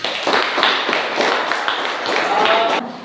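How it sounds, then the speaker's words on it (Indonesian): A classroom group claps for a presenting team during a university teaching session in Merauke, producing a short burst of rhythmic, close clapping from a small number of people that fades at the end. "Tepuk tangan untuk kelompok ini."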